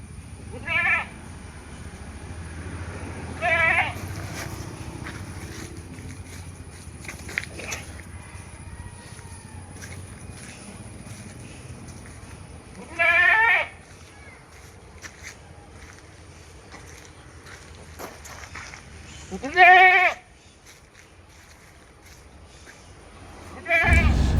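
A Sirohi cross dairy goat, recently separated from its kids, bleats in loud, separate calls spaced several seconds apart over a steady background hum at a livestock sale.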